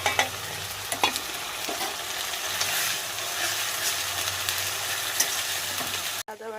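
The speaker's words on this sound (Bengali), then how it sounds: "আদা বাটা সব মশলা কষানো হয়ে গেছে" Ginger, garlic and onion paste sautés in oil with a dense, continuous sizzle and occasional stirring knocks, close and fairly loud, with no voices.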